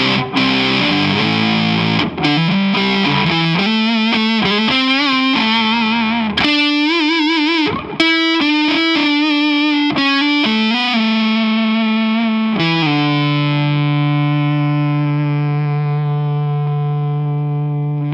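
Distorted electric guitar, a PRS SE Zack Myers, playing a series of notes and chords through an amp with effects, ending on a long sustained ringing chord; loud, no talking.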